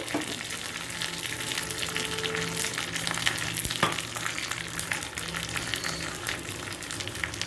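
Curry leaves and hing crackle and sizzle in hot oil in a pan as part of a Bengali lunch preparation, a steady, fairly loud frying hiss with a few sharper pops throughout, no voices.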